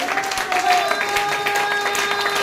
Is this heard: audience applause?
yes